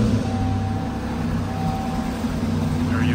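Turbocharged V6 of a 1987 Buick Grand National idling after startup, a steady deep rumble with a persistent low drone, close and fairly loud, no talk over it.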